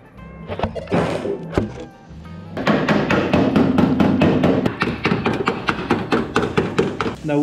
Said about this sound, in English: we have taken a chisel and a hammer for the back of the car